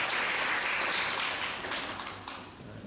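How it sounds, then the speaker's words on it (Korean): Church congregation at a Teacher's Day service in Hanoi applauding, a dense wash of many hands clapping together that holds steady, then slowly fades toward the end. "우리 한번 응원의 박수, 감사의 박수 드릴까요?"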